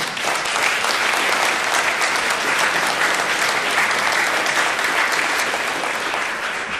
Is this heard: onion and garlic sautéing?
no